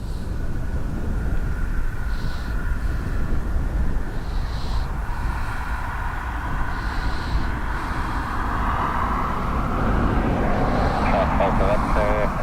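An Airbus A321neo departs Dublin Airport, a steady broad jet roar with wind noise running through the whole stretch, while a person talks over it.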